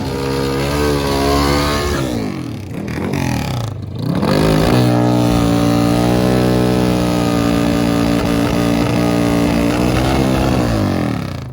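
Pro Stock drag racing motorcycles with 400+ horsepower V-twin engines roar close and loud at an NHRA event, revving in sustained rising and falling waves with a brief dip near the start before pulling hard again.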